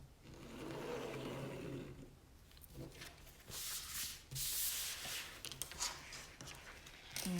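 A pencil rubs across a wooden box lid, making a soft, steady scratching that comes in short strokes and pauses, faint and close.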